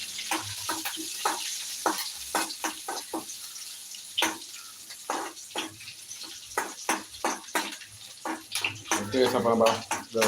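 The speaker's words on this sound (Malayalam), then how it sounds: "സാമ്പാറിന് കടുക് വറുക്കണേ" Dense crackling and popping of mustard seeds spluttering in hot oil, steady sizzle with sharp bursts, close up, no talking.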